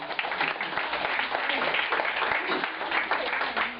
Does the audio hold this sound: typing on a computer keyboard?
no